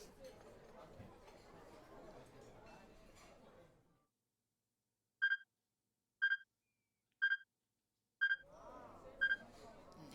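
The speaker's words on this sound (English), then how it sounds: "He heard the strange beeping sound again, subtly different than the first time." In the video game 428: Shibuya Scramble, a strange electronic beeping sounds as five evenly spaced, bright tones about a second apart, clear in near silence after a stretch of talk, with chatter resuming under the last beeps.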